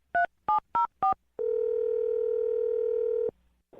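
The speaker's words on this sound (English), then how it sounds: "I'm going to dial her phone number right now" Four quick touch-tone dialing beeps are punched in at an even pace, followed by a loud, steady telephone dial tone holding for about two seconds before cutting off.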